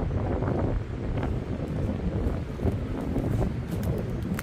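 Strong wind blows through a wooded campsite with many fallen trees, a continuous loud buffeting roar across the microphone with uneven surges and no speech.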